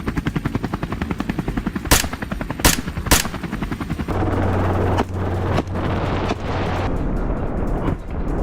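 Gunshots fired at wild boars on a farm: three sharp, loud cracks in quick succession, then a few more spaced shots over continuous rumbling engine or rotor noise.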